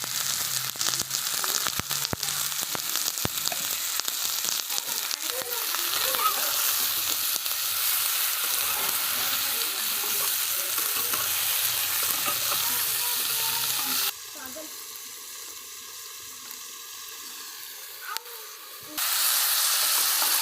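Loud, continuous sizzling and hissing of salted eggplant frying in a hot pan, with occasional stirring clicks; the hiss drops briefly near the end.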